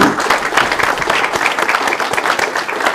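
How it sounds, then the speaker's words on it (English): A crowd at a speech applauding steadily, dense clapping that stays loud and even throughout. "can we please have a round of applause for the hosts here who brought us here"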